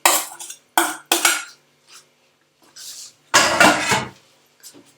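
Pumpkin spooned into a baking dish for a healthy layered bake, heard as a few sharp utensil scrapes and clinks against the dish, then a longer wet scraping burst and faint taps, close and without talk.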